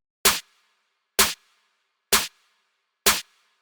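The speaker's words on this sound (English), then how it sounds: "Then this snare pattern." Electronic snare hits in a slow, evenly spaced pattern, four sharp loud strikes each with a short reverb tail, alone with no other instruments.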